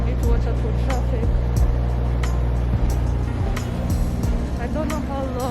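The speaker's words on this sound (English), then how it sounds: "Need to watch out for traffic." Busy street traffic with cars and other vehicles rumbling past close by, a steady low engine drone with occasional louder passes, alongside talk.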